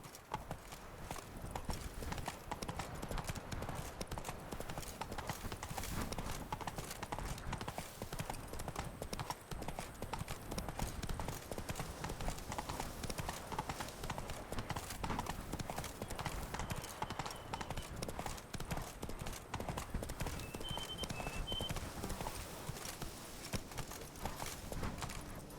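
Horse hooves from The Witcher 3 Wild Hunt clip-clop steadily at a gallop for the whole stretch, a continuous rapid thudding rhythm with game ambience beneath and occasional faint vocal urging.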